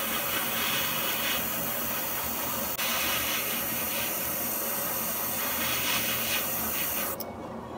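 An airbrush sprays AK Real Colour lacquer acrylic paint, giving a soft, steady hiss of air that runs throughout, fairly quiet and close, with no talking.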